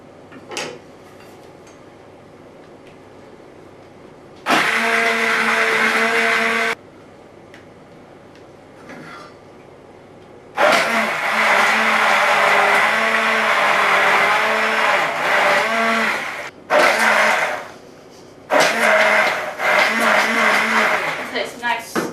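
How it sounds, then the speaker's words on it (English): Blender pulsing through curry sauce for a chicken katsu curry in bursts: a loud whir for about two seconds, a pause, then a long steady run and several shorter pulses near the mic. "you need to get a blender and just blend it up"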